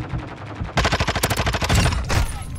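Rapid automatic gunfire in a Call of Duty: Modern Warfare II match, a loud close burst of evenly spaced shots after a lower rumbling start, then another short volley.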